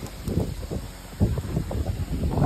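Gusty wind buffets the microphone in rough, rumbling bursts, loud and close throughout.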